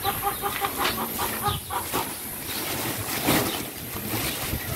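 Chickens clucking nearby outdoors, several short cackling calls in a loose rhythm over a breezy, rumbling background.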